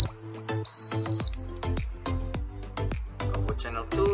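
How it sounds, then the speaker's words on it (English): A Centurion Nova Helix RX4 gate receiver gives two sustained electronic beeps back to back amid a run of sharp clicks and taps, close and clear. "double long beep."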